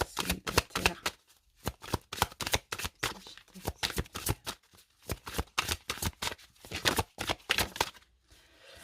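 Oracle cards shuffled by hand in repeated quick riffling bursts, close and crisp, with brief pauses between rounds and no voices.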